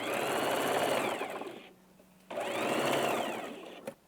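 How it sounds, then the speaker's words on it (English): A sewing machine stitches a garment's shoulder seam in two steady whirring runs, close and loud, separated by a short pause and ending with a brief click. "To have a perfect join on the shoulder part, you need to sew one side first."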